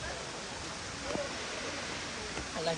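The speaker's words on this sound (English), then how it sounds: "This is called Pepe waterfall." Rushing water of Phephe waterfall in Dawki, Meghalaya, a steady broadband roar filling the scene, with faint voices of visitors briefly audible over it.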